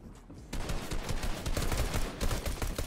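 Rapid pistol gunfire in a shooter video game, a dense string of close, loud shots crackling over a busy game background.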